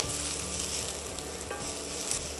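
Aromatics and spice powders fry in a pan for a Burmese okra and egg curry, giving a steady close sizzle with stirring scrapes and a few sharp crackles throughout.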